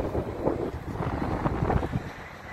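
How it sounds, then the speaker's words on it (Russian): Strong, cold wind buffets the microphone outdoors, making a steady low roar with gusty thumps throughout and no voices. "только очень сильный ветер. Сильный и холодный."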